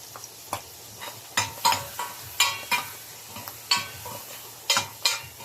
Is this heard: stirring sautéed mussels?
yes